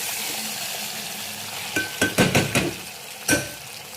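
Onion and eggplant, softened and browned, frying with tomato in a pan for a Marathi eggplant amti, with a steady close sizzle and a few clinking stirs of a spoon against the pan.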